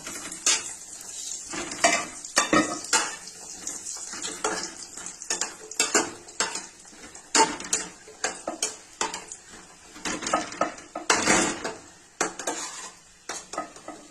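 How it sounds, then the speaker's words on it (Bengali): Bori lentil dumplings frying in oil in a wok, with repeated clattering spatula strokes and scrapes against the metal over a steady sizzle, busy and close throughout. "প্রথমে বড়িগুলো তেলের মধ্যে দিয়ে"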